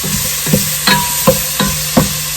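Vidalia onions sauté in a pan for a tomato-based Navy SOS meal, a steady close sizzle broken by four or five rhythmic scraping stirs of a utensil.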